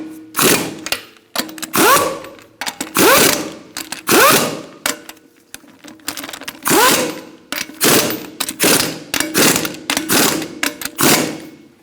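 Lug nuts on a 2002-2006 Honda CR-V wheel being snugged with a ratcheting tool in a star pattern, heard as repeated bursts of rapid mechanical clicking and whirring separated by short pauses, close and loud, with no talking.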